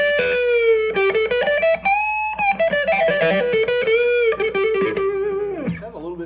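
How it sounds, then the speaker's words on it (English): A 1996 Gibson ES-175 hollowbody played through its P-90 neck pickup with distortion plays a sustained melodic lead with bends and vibrato, ending on a falling slide. "going back and just getting distortion, I like this neck pickup sound too"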